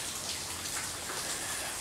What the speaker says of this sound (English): It's just been a slow and steady drizzle on and on and on